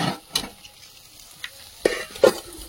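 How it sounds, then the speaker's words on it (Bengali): Soybean chunks frying in a pan, a soft steady sizzle with a few sharp scrapes and stirs of a spatula, close by and with no talking. "সয়াবিনটা ভেজে নিয়েছি, এখন নামিয়ে নেব।"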